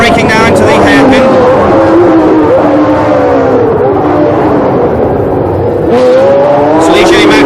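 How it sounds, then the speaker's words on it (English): A Ligier Matra race car engine at high speed, its pitch falling as it brakes into the Long Beach hairpin in 1976, loud and continuous beneath steady commentary. "look at the speed of that Matra engine"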